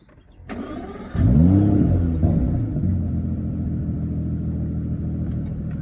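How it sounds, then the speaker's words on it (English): A 2019 Aston Martin DBS Superleggera engine cranks with a sharp click, then catches and flares up loudly before settling into a steady, deep rumbling idle nearby. "I'm going to start the engine."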